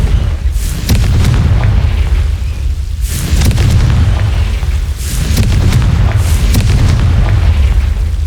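Confringo blasting spell explosions in the Hogwarts Legacy video game, loud, heavy, rumbling booms rolling one after another over a dense low roar, with no talk.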